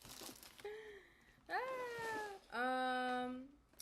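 Several clear cat meows, a brief one followed by two longer drawn-out calls with rising then falling pitch, close and loud in a quiet indoor room.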